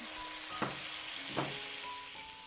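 Beef and bacon hit a pan of frying chopped garlic for a beef bourguignon. A soft, even sizzle runs throughout, with two brief louder bursts as the meat goes in. It sounds close but fairly quiet, with no voices and some faint tonal background music.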